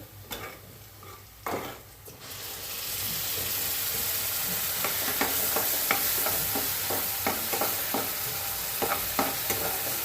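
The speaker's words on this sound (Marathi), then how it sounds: "पेस्ट चांगली परतून घेऊ हे आलं लसूण खोबरं कोथंबीर हिरवी मिरची ह्याची पेस्ट आहे" Onions and a paste of ginger, garlic, coconut, coriander and green chili sizzle steadily in a pan for a sukka chicken dish, with repeated scraping stirs and a few clinks of the utensil against the pan.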